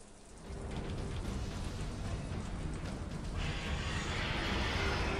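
Steady rain pours in an RPG Maker horror game, a dense continuous hiss that swells louder partway through, with no voices.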